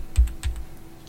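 Two quick clusters of keystrokes on a Mac computer keyboard, crisp clicky taps close to the microphone, then quiet.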